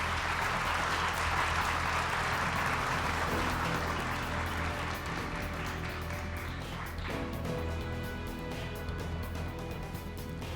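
Applause for Game Art graduates at a graduation ceremony, sustained crowd clapping that stays steady throughout. A faint tonal hum shows up in the later part, and the clapping runs on without talk.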